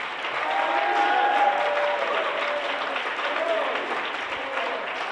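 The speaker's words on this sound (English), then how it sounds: "Somebody clap your hands." A congregation claps together in a steady wash of applause, with shouts and voices mixed in throughout.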